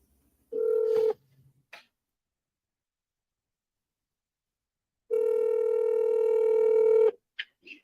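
Outgoing phone call: a burst of dial tones and a short tap, then a long electronic ringback tone pulses on before clicks as the line connects, with silence between.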